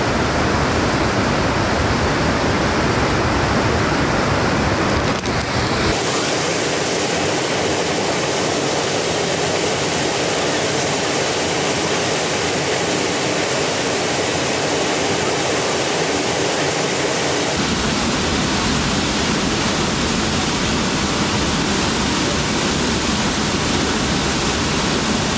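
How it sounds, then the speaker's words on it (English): Waterfall pouring into a swimming hole on Kauai, Hawaii, a loud, steady broadband roar of falling water that shifts in tone as the position changes, with no talking. "This is the second waterfall with like little swimming hole."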